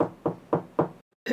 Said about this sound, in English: the wolf knocked softly on the door.